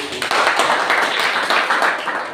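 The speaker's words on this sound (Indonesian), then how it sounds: "Berikan aplaus dulu" A classroom of students applauds group 1 with a dense, continuous burst of hand clapping that carries on loudly without a break.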